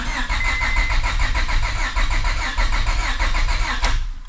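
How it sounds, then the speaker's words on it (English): A project car's engine cranks over steadily on its starter, a loud, even, rapid churning rhythm that runs for about four seconds before stopping abruptly. The battery is full but on the low side, yet the cranking stays strong throughout. "Cranking strong."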